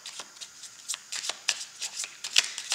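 Tarot cards are shuffled close up in a series of quick, crisp riffling bursts, several short flutters repeating in an uneven rhythm.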